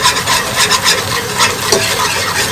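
Flour being toasted for soup in a pan, stirred constantly with a loud continuous scraping and rasping, rhythmic swishes over a soft frying hiss.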